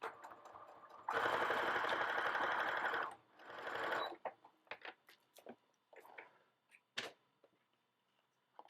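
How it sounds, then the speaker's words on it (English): A sewing machine runs a straight stitch on small journal covers, whirring steadily for about two seconds and then again in a shorter burst, followed by quiet clicks and handling noises, close and alone. "I'm placing my card, my little covers here into the sewing machine"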